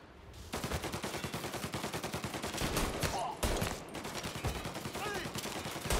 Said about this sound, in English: I like to go for the headshot if I can with the gun or the pistol.